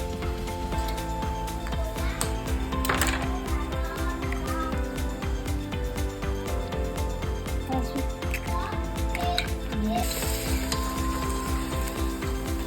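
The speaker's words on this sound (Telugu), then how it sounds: "అన్ని ఎగ్స్ యాడ్ చేసుకున్నాక మిక్స్ చేసుకున్నాను" Beaten eggs frying in a pan for egg fried rice, a steady sizzle with occasional stirring scrapes, moderately quiet under a constant kitchen background.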